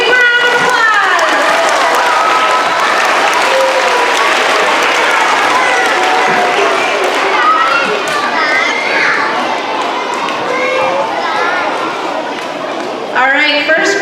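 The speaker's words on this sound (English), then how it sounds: "let's give kindergartners a great round of applause" Applause for kindergartners at a school program fills a hall, a long, loud, steady round of clapping from a large audience with children's voices and some cheering mixed in, fading slightly near the end.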